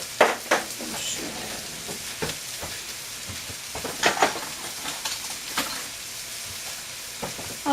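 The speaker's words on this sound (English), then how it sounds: "So basically I'm just, turning them over, mixing in the oil and the onions" Zucchini noodles frying in oil with onions are turned and stirred in a pan, giving a steady close sizzle broken by irregular scraping and clanking stirs, with no talking.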